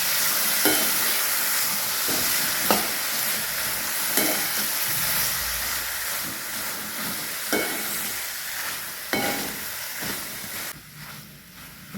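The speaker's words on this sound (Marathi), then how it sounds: "तर वांगे आपल्याला मसाल्यातच फ्राय करायचं आहे 5 मिनिटं." Eggplant pieces fry in a pan of green chilli masala, a steady soft sizzle with periodic scraping knocks of a spoon stirring every couple of seconds, close and moderately quiet.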